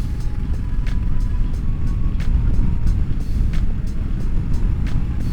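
A 2022 Honda Africa Twin motorcycle is being ridden, with a steady, loud engine drone and heavy wind rumble continuing throughout.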